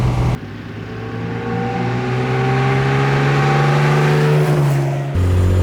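A fully restored 1963 Maserati 3500 GT Sebring Series 1 engine idles steadily with a strong low hum, rising slightly in pitch before dropping back; loud and close, no talking.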